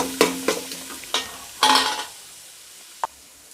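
Chopped large onion sautés in a pan as a spatula scrapes through it in several sharp stirring strokes, over a faint sizzle, ending with a single light clink.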